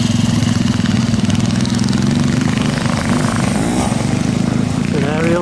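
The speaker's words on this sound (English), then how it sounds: "It's an Ariel twin engine." Ariel twin-engine pre-unit motorcycle running steadily at a classic trials event in Jericho, Yorkshire, a loud continuous engine drone with throbbing pulses throughout, with people talking over it.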